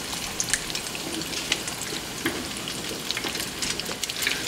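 Chicken flautas fry in hot oil with a steady, close crackling sizzle and scattered sharper pops, without any talking.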